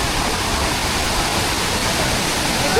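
A low waterfall in northern Laos pours steadily, a dense, loud, unbroken roar of rushing water filling the whole moment with no voices.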